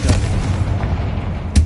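Booming blasts from the Confringo fire spell in the video game Hogwarts Legacy: a loud explosion at the start, a sustained rumbling roar, then a second heavy boom near the end.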